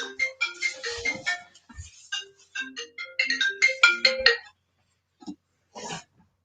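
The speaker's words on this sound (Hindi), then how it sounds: "एक मिनट बेटा, इन सबका फ़ोन है।" A phone ringtone plays a bright, melodic electronic tune up close in a quiet room, running in quick repeated phrases before stopping, with a couple of brief tones after.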